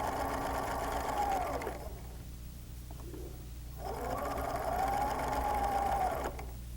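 A sewing machine stitches fabric in two sustained runs of rapid whirring, separated by a short pause of quieter handling sounds in between.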